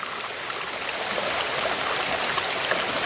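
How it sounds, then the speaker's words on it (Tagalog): A small creek flows steadily with an even, close rush and gurgle of water, alone and unbroken for a few seconds. "Kaso lang, ang problema, sapa na lang siya."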